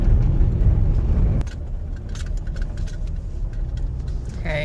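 A car rolls along a gravel road after leaving pavement, a steady close rumble of tires and engine filling the clip, louder in the first second and then a constant lower crunching drone.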